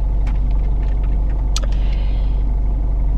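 A car drives steadily along, its engine and road rumble loud and continuous from inside the cabin, with a few faint clicks and rattles on top.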